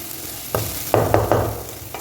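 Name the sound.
frying chicken in a kadai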